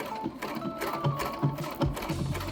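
A sewing machine embroiders a clover and vine design onto thrifted shorts, its needle chattering in a steady, fairly quiet mechanical rhythm with soft repeated thumps and a faint whine, heard alone without speech.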